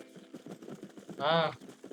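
Horse hooves clip-clop in the Red Dead Redemption video game, a quick rhythmic beat heard under someone talking, with a short rising tonal cry partway through.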